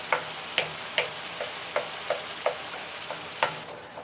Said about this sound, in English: So I'm going to put some canned tomatoes in here, mash them up.